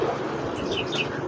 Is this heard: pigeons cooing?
yes